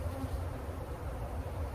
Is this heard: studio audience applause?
no